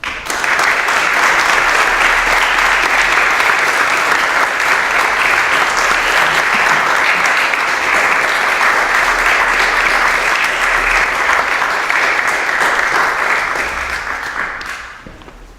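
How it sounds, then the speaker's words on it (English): Sustained loud applause from a lecture audience welcoming His Holiness Radhanath Swami at Cambridge, dense clapping at full strength for about thirteen seconds before thinning and fading out. "please can we have a warm round of applause for His Holiness Radhanath Swami."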